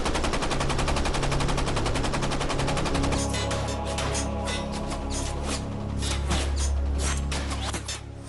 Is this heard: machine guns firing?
yes